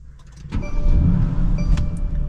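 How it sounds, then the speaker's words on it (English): A Mercedes-AMG GT S engine is started from inside the cabin, producing a brief low rumble that swells and settles into a steady, loud idle. "AMG engine roars to life"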